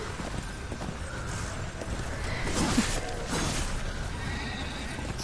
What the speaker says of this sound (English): I'm riding my horse.